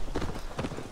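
A horse's hooves clip-clop in two quick close bursts of hoofbeats in the Viking-era game Assassin's Creed Valhalla.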